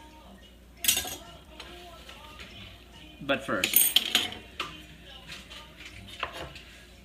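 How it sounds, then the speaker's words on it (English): A mezzaluna rocks across a cutting board as food is chopped in a home kitchen, giving a sharp metallic clatter early on, then a denser run of knocks and clinks; a voice briefly speaks. "This is just chopping, it's not dicing."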